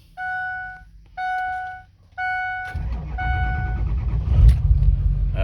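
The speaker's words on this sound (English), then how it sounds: "So we'll give it a cold start." A 2006 Ford F250 Lariat 6.0 four-wheel-drive truck cold-starts after three loud chimes, the engine catching and settling into a steady, rough idle close by.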